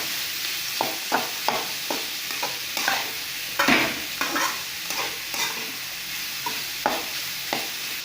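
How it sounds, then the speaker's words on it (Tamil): Curry masala and chili powder sautéing with banana stem in a pan, a steady close sizzle broken by repeated scraping stirs of a spoon, with no talking. "இப்போ தேவைக்கேற்ப கறி மசாலா சேர்த்திட்டு நல்லா வணக்கிக்கலாம்"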